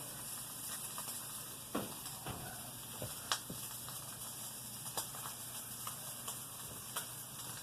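Wagyu New York strip steak searing in a scorching hot pan, a steady close sizzle and hiss with scattered sharp pops and ticks throughout, no talking.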